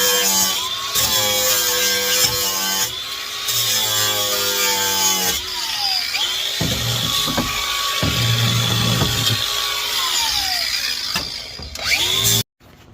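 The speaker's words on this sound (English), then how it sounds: "let's get the battery back onto the DeWalt grinder with the flat disc. Try to clean up those welds a little bit" A DeWalt cordless grinder with a flat disc cleans up welds on a 1991 Honda CRX build with a K20Z3 engine. Its steady high whine runs loud and close for about twelve seconds, dipping and swelling as the disc bites the metal.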